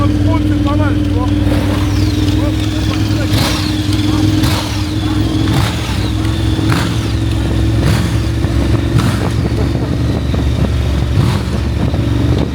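A KTM 1390 Super Adventure S Evo adventure motorcycle is being ridden, its engine humming steadily with wind and road rumble throughout, while a rider talks over it now and then.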